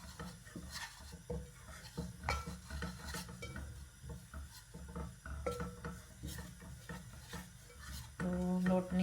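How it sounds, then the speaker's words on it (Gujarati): Flour being roasted in a pan, heard as repeated scraping and tapping of a utensil against the pan in an irregular rhythm, close and fairly quiet, with a louder clatter at the end. "તો લોટની પેલા શેકી નાખીએ પ્રોપર"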